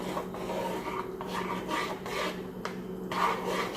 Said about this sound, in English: I'm gonna keep stirring it because you don't want clumps.